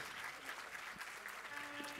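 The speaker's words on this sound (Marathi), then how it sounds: "कृपया टाळ्या वाजवून त्यांचं सहर्ष स्वागत करा" An audience applauds to welcome the Governor at a public event, a soft, steady patter of clapping that fills the moment without a break.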